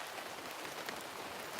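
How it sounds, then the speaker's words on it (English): Rain falling outdoors, a steady dense hiss of drops with no clear gaps, heard alone without any voices. "when it's like raining like this. I guess it's not pouring"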